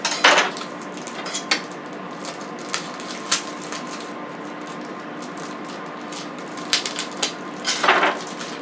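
A metal pot handled on a kitchen stove while preparing ballpark franks for boiling, with sharp clanks and knocks at the start and again near the end, scattered lighter taps between, over a steady low hum.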